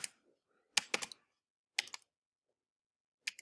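Quiet, sparse keystrokes on a computer keyboard come in short clusters of clicks separated by silent gaps.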